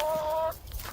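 Chickens on a rural Southern Oregon property give a short burst of clucking calls, fairly close, with a steady tonal call that fades partway into quieter ambient noise.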